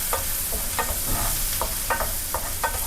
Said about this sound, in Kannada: ಬೆಳ್ಳುಳ್ಳಿ ಹಾಕ್ಕೊಂಡು ಚೆನ್ನಾಗಿ ಮಿಕ್ಸ್ ಮಾಡ್ಕೊಳ್ಳೋಣ